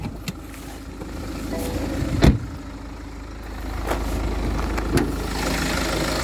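A 2017 BMW 118d with a 2-litre twin-turbo diesel idles with the bonnet up: a steady mid-pitched engine hum, heard close. A few clicks and knocks cut in over it, with no one speaking.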